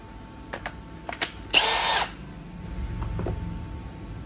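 Cordless power drill giving a single short whirring burst of about half a second, with a few sharp clicks and handling knocks before it and a low rumble after.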